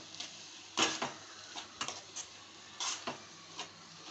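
Beetroot halwa stirred in a pan after cardamom powder is added: faint, scattered spoon scrapes and soft clicks against the pan, arriving in short irregular bursts.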